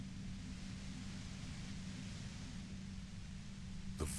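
Steady, faint hiss of harsh white noise drones on evenly in the Disco Elysium video game, ending with a brief crackling burst.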